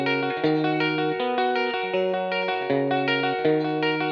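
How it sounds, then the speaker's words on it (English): Lead electric guitar played through a Marshall amp with reduced gain and a light flanger, a sustained melodic line of held notes and slides, loud and close with a shimmering modulated edge and no talking. "for the lead guitar parts, I'm using the same Marshall, but with less gain and just a light flanger"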